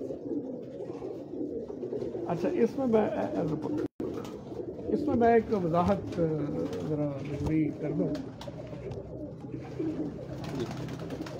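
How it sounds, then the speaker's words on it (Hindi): A flock of pure-breed pigeons coos continuously nearby in low rolling calls, while someone talks over them for much of the time. "ये सब मतलब प्योर प्योर ब्रीड के कबूतर हैं।"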